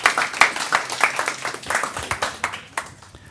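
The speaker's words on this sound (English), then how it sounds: "And a big round of applause to you." Audience clapping for a speaker at a tech talk during a hackathon, a moderate crowd giving distinct, fairly loud claps in a steady patter for a few seconds, with no voices over it.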